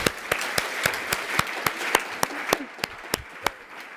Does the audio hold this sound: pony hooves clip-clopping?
no